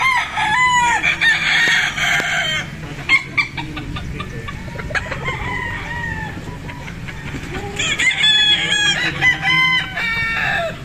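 A Sweater gamefowl rooster at a game farm crows loudly and close, twice, with a long pause between the calls. Other birds cluck and call in the background.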